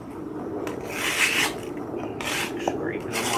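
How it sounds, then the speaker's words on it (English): Mud is scraped off paver bricks pulled from a walkway, a steady gritty rasping of a few strokes with brief louder scrapes, close and alone without talk. "Scraping the mud off of them."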